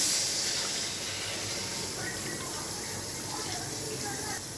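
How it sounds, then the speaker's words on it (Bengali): Water is poured into a pan of pomfret fish curry made with green chili paste, giving a steady, fairly loud hiss and rush that runs unbroken for the whole stretch. "জল দিয়ে দিচ্ছি"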